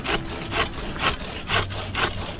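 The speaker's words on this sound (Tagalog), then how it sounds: "Talas pa rin ng lagari na to." A sharp hand saw cuts through the wood of a big tree in a steady rhythm, five loud rasping strokes close by with no talk over them.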